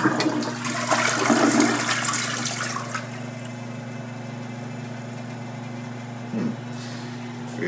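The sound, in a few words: Niagara Conservation toilet flushing in hotel bathroom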